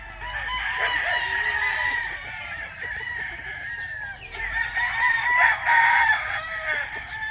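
A broodcock rooster crows and clucks close by, with repeated loud calls across the stretch and a second burst of crowing near the end, no talk over it.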